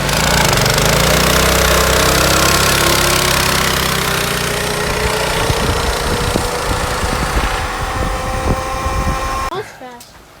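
A Yerf Dog go-kart with a Predator 212 engine runs loud and close, its pitch climbing steadily as it revs up, then cutting off abruptly near the end; voices are faintly present under the engine.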